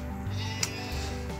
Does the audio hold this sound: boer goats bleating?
yes